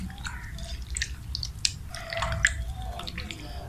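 Wet squishing and dripping as raw chicken is mixed by hand in its marinade for chicken Manchurian, with soft irregular squelches and small splashes close up and no voices.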